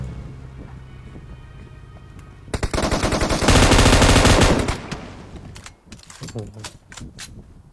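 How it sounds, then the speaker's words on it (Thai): Loud burst of automatic gunfire in a Thai-language driving and chase video game, aimed at the player's car, rapid shots lasting about two seconds before fading, with game sounds and faint background around it. "มันยิงรถเราเหรอ ไม่ยิงเข้า"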